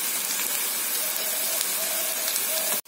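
Lentil fritters (masoor dal bara) frying in hot oil, a steady dense hiss and sizzle filling the whole clip with faint crackles, cutting off abruptly just before the end.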